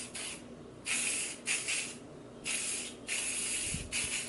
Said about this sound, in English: So I'm just taking some hairspray